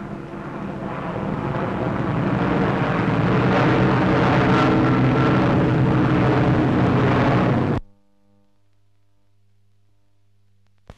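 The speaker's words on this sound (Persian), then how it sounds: "هواپیماهای بمب‌افکن پرواز می کردند" Bomber aircraft of Bomber Command fly overhead, a loud, broad engine roar that swells and holds for about eight seconds, then cuts off abruptly into near silence.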